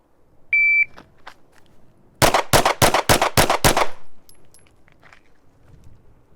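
Glock 43 pistol fired rapidly in a shooting test, seven sharp loud shots in quick succession after a timer beep, with faint handling noises around them.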